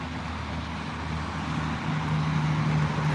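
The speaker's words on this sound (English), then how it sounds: "Let's get away from that loud traffic" Steady road traffic roars nearby during an evening walk, a continuous low engine and tyre rumble with a faint droning hum that grows slightly louder toward the end, with no voices.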